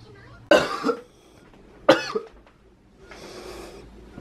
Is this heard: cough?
yes